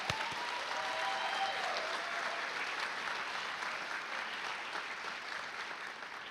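Steady, sustained applause from an audience honouring 8th grade students at an awards ceremony, a dense even wash of clapping that holds for several seconds and tapers slightly at the end.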